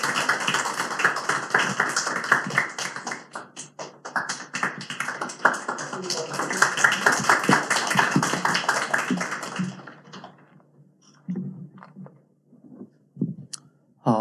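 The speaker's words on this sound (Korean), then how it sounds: "박수로 크게 환영해 주시기" A church congregation applauds to welcome a pastor with dense, lively clapping that holds for about ten seconds and then dies away into near quiet with a few faint sounds.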